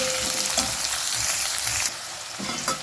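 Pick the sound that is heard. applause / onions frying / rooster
onions frying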